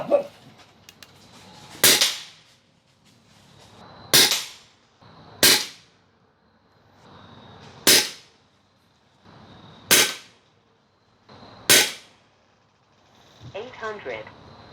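Six sharp shots from a Huben GK1 PCP air pistol charged to about 350 bar, evenly spaced roughly two seconds apart, each a loud crisp crack with a short tail, followed by a brief faint rattle at the end.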